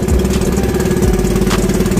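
A boat engine runs nearby at a steady loud chug, its rhythmic low pulsing throb and mechanical knock continuing without a break, with no talk over it.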